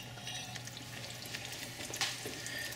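Egg for an omelet fries steadily in a pan, a soft continuous sizzle with faint crackles and a brief scrape partway through, quiet and close with no talking.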